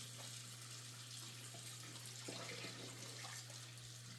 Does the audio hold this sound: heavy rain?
no